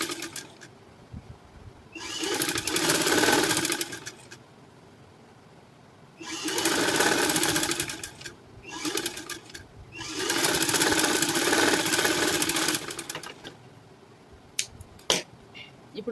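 A sewing machine stitches a high neck blouse in three bursts of rapid needle chatter, each lasting a couple of seconds and separated by quiet pauses. A few light clicks follow at the end.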